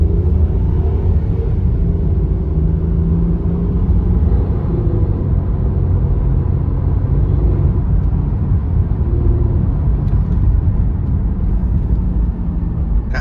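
A 2001 Infiniti i30t on a test drive, heard from inside the cabin as a loud, continuous engine and road rumble with a steady low drone.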